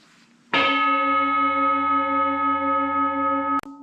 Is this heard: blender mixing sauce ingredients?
no